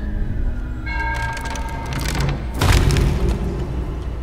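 A deep, booming cannon blast in Sea of Thieves thuds out over a background of game music and ambient noise, followed by a rumbling tail.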